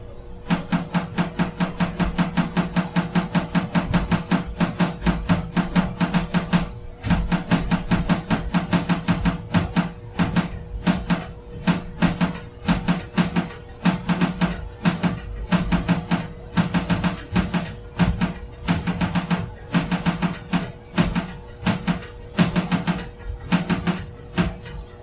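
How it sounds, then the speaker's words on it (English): Repeated forceful tapping like knocking on a door, starting as rapid steady taps and turning into irregular, loud, angry bursts, close and alone over a low steady hum. "It goes from just an occasional one tap to just like this angry tapping."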